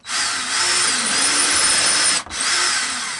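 A power drill bores holes through a wooden guitar body, a loud high whine that holds steady for about two seconds, stops briefly, then starts again.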